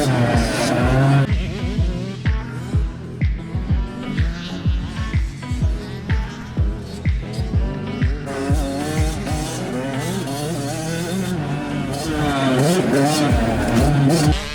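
A Yamaha YZ85 motocross bike rides a UK MX track, its two-stroke engine revving up and down in rapid rhythmic bursts through gear changes, fairly close and loud, with talk over parts of it.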